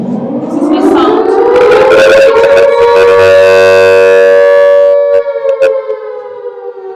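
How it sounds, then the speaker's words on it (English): A loud civil-defense-style siren effect for a theatre larp scene rises in pitch and holds a long wailing tone, with voices chattering underneath before it fades out near the end. "There will be a siren and it is the sound."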